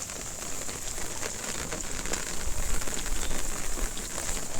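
Rain pattering steadily on an open umbrella, dense close drumming of drops with brief louder gusts, no voices.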